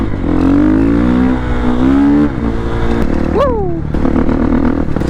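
A motorcycle cruising at about 35 miles per hour gives a loud, close, steady engine drone with shifting pitch, a dip partway through, and wind noise over it.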